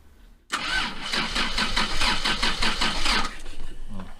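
Starter cranking a 1980s Toyota Supra turbo engine with no ignition, a steady rhythmic churning of even compression pulses for about three seconds, close and loud, then stopping without the engine firing.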